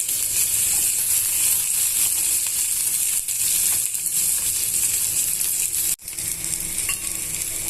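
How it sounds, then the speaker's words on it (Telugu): Lentils for a roadside-style chutney roast in a pan over a low flame, giving a continuous dry hiss with steady stirring scrapes and a brief clatter near the end, close and without speech. "మాడిపోకుండా దూరగా వేయించుకోవాలి స్టవ్ సిమ్లోనే పెట్టుకొని వేయించుకోవాలండి"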